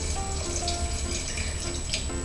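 Tap water pours steadily over Chinese herbs to soak them: a continuous close-up splashing and trickling, with no voices.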